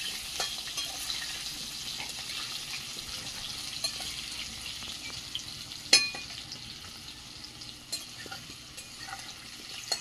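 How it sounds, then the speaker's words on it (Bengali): Potatoes frying in a pan over a wood fire give a steady, close sizzle with a few sharp crackles and pops scattered through it. No one speaks. "ভেজে নেবো আলুগুলো।"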